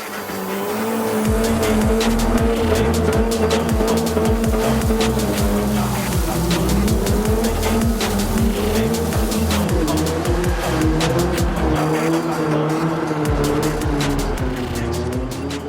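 A car drifting in Gran Turismo 7, played with a steering wheel: continuous engine roar with rising and falling revs and sustained tire squeal, loud and close throughout, with no talking.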